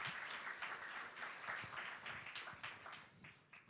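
A church congregation claps during a sermon, a dense, lively patter of many hands sustained throughout and easing slightly toward the end, heard across the hall without speech.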